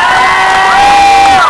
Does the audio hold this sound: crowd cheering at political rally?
yes